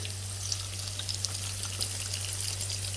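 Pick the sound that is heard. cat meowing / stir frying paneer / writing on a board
stir frying paneer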